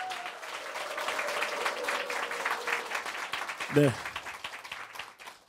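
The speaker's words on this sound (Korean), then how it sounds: "큰 박수 보내드리겠습니다" An audience claps for a singer on a Catholic hymn prayer broadcast for peace on the Korean peninsula, a continuous patter of applause beneath a speaking voice, with a short spoken word near the end as it fades.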